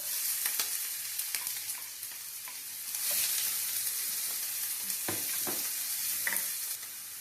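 A medium-sized onion fries in about two tablespoons of oil, producing a continuous sizzle broken by stirring scrapes and occasional utensil knocks, fairly close and with no talking.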